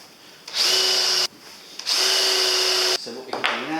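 A power drill drives screws into wood while building a pull-out bed for a camper van conversion, whirring loudly and close in two long bursts with a shorter burst trailing at the end.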